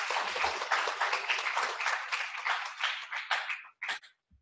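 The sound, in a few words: audience applause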